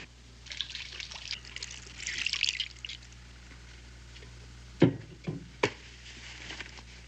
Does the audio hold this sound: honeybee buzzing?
no